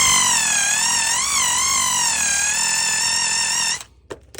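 A polisher buffs a panel on a Porsche Carrera 911, giving a loud, close, continuous motor whine that wavers slightly in pitch for several seconds before cutting off abruptly, leaving a few faint knocks.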